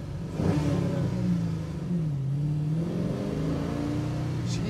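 A 1966 Pontiac GTO muscle car accelerates with its engine revving loud and close, a steady drone whose pitch climbs, dips briefly and rises again.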